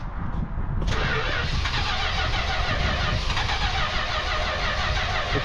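A 1968 Plymouth Satellite's engine cranks and turns over continuously with a steady churning whir, close and loud, without catching, out of gas.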